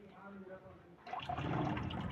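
Water starts running into a household storage tank, a rushing, splashing flow that begins halfway through, after a stretch of muffled talk.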